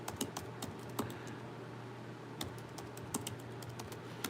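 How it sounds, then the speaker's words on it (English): Steady typing on a computer keyboard, with fast irregular key clicks running throughout against a faint room hum, fairly quiet and with no talking. "I'm typing away and it's not even going here."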